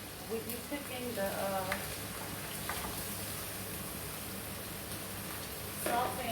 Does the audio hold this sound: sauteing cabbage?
yes